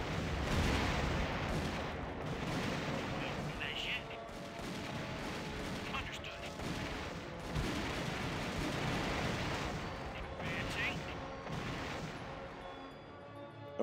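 Tank fire and battle noise in the video game Army Men: RTS, with loud booming blasts and rattling gunfire layered continuously over dense background rumble and a voice heard talking over it.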